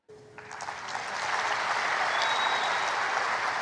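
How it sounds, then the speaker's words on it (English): A large Rwandan crowd bursts into sustained applause that swells and holds steady, dense clapping filling the space. "Rwandans applaud."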